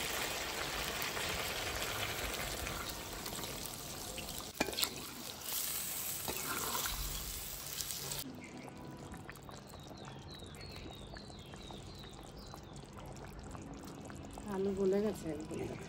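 Water is poured into a pot of braised meat and potatoes, a loud, close, rushing hiss for the first half that drops away to a quieter, softly bubbling background.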